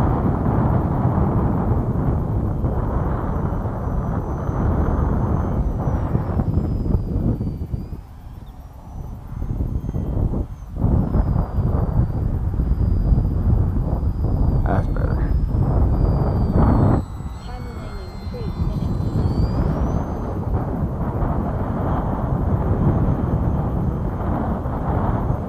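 A Highlander float plane's engine roars loudly and continuously during a go-around, with a brief dip partway through before the drone returns. Tonal whines from the engine rise and shift over it.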